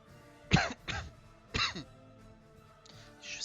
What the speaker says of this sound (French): Je sais pas comment arrêter cette toux, c'est affreux quoi.